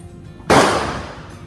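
A single loud gunshot at an indoor shooting range with 18 firing lanes, a sharp crack followed by a roomy decaying echo.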